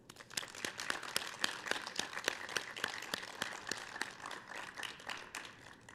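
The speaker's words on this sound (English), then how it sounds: "Give yourselves a huge round of applause." Graduation ceremony audience applauds, steady crowd clapping with scattered sharp individual claps, moderately distant and even throughout, with no talking.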